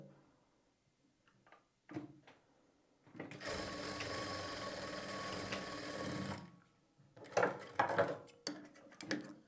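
A sewing machine stitches piping onto a blouse, starting with a few light taps, then running in a close, steady whirring burst for about three seconds, followed by clattering handling of the fabric.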